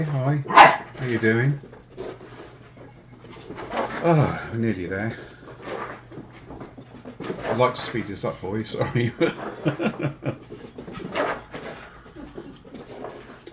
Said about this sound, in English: That's the dog just going mad.